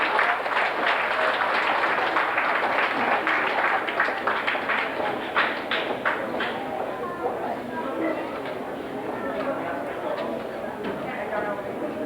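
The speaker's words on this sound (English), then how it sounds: "Please give these guys a round of applause." Audience applause at a 1992 FFA event, steady clapping from a crowd that carries on and slowly thins toward the end.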